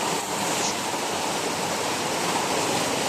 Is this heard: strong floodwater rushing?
yes